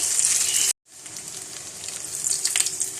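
Lauki (bottle gourd) kebabs fry in a pan on their second side, giving a steady hiss and sizzle with a brief silent break, then the crackling picks up again.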